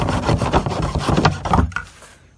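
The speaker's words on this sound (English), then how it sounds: "Next, on our sump basin, we turn it upside down using a good, strong, sharp hacksaw" A sharp hacksaw cuts a plastic nipple off an upturned sump basin in quick, rhythmic rasping strokes, close and loud, slowing and stopping after about two seconds.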